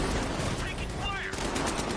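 Rapid bursts of automatic gunfire during combat in Batman: Arkham Knight, loud and continuous with overlapping shots and faint voices underneath.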